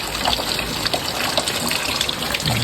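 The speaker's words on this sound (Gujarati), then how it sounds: "આ જેવું પાણી પડે છે ઉપરથી" Rainwater pours steadily from above in a continuous loud gush while hands are rinsed under the falling stream during a rainy spell; no one speaks.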